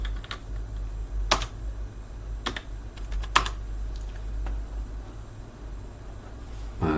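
Keystrokes on a computer keyboard as a shell command is entered, a few sharp clicks and quicker taps spread irregularly over a steady low hum, close and fairly quiet, with no talking.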